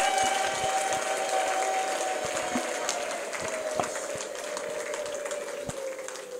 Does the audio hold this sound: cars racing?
no